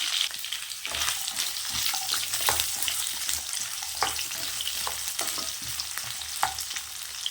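Coconut pieces frying in a pan for a coconut gravy, a steady close sizzle with occasional stirring scrapes and small pops throughout, no voices.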